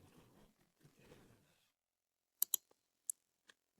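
A handful of crisp computer mouse clicks, spaced irregularly and close, following a brief stretch of faint muffled voice, otherwise quiet.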